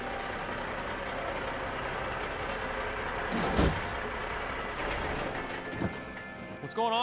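A big rig truck pulling into a truck stop and braking to a halt, with a steady engine rumble, a sharp air-brake hiss midway and a further squeal near the end.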